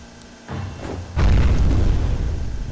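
A grenade detonates in the shooter game F.E.A.R. Extraction Point, a loud deep boom that swells up suddenly after a quieter thud and rumbles on for a couple of seconds, with no talking.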